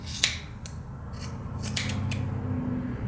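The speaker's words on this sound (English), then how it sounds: "You take some scissors and you cut the other end." Scissors snip through the tied end of a loop of Christmas ornament material, giving several short, crisp cuts at close range over a low steady background hum.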